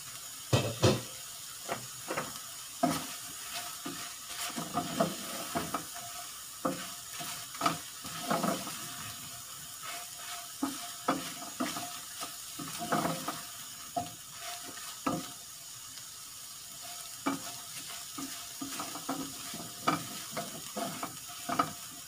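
Garlic shrimp sizzling and frying in a covered pan, a steady crackle with scattered sharp pops and spits throughout, fairly close with no voices.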